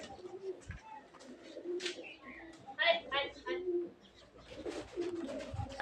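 Pigeons coo softly in short throaty bursts, mixed with wing flutters and scuffling nearby, while a person speaks quietly over them.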